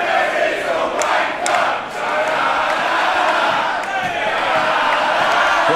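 At a wrestling event, a crowd cheers and shouts continuously, with bursts of yelling rising and falling over a dense wash of voices.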